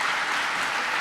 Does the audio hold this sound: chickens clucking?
no